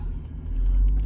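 A Mercedes SL55 AMG idles steadily after a Neomax coilover conversion, a continuous low rumble close by that swells slightly louder partway through, with no talking.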